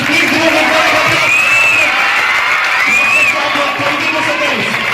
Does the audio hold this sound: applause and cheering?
yes